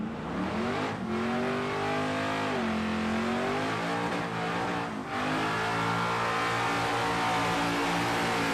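Nitro funny car drag racing engines at Palmyra Dragway roar and rev continuously, very loud and close, with pitch rising and dipping through several revs and no voices audible.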